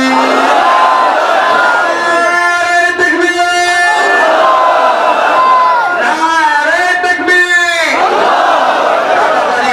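A large crowd at an Islamic Quran tafsir gathering beside a village mosque chants a religious slogan in unison, loud, sustained voices rising and falling in two long waves.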